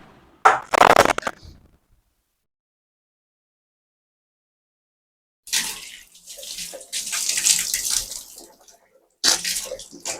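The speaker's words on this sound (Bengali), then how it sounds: "হাত মুখটা ধুয়ে আসি।" Running tap water while someone washes their hands and face at a home sink, a short burst near the start, then a gap of silence before longer splashing and flowing water returns, close and moderately loud.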